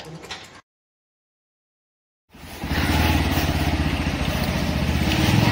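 After a brief cutout and silence, a motorcycle engine drones steadily and loudly up close on a ride toward Matheran, a constant rumbling hum.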